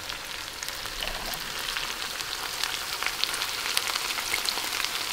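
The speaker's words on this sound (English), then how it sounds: "Now I like to put the tomato paste." Tomato paste goes into a pan of frying onion, garlic and beef, giving a steady, close sizzle that crackles without a break for a few seconds.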